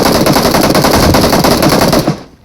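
Automatic gunfire rattles loudly in a shooting video game, one rapid, continuous burst lasting about two seconds before cutting off abruptly.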